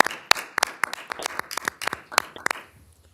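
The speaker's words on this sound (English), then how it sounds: "Let's give a round of applause to the team." A few people clap at a county commissioners' board meeting for the budget team, a thin, irregular patter of separate sharp hand claps in a quiet room that fades out toward the end.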